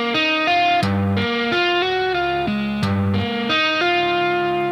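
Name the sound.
distorted electric guitar playing fourth chord of a song's riff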